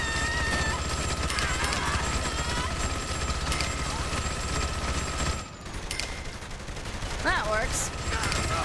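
Rapid gunfire in the video game Saints Row: The Third rattles in fairly quiet, continuous bursts, dipping briefly midway before picking up again.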